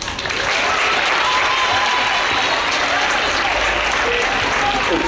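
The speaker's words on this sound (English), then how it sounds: "Give another round of applause, please." A school audience gives a loud, dense burst of applause that starts abruptly and holds steady as a continuous roar of clapping, with faint crowd voices mixed in.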